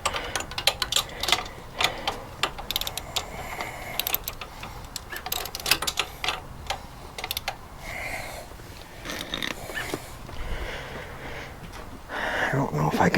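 Socket wrench ratcheting while fitting an engine crash bar to a Triumph Bonneville motorcycle, a run of quick, close clicks and mechanical rattles, with someone talking intermittently over the work.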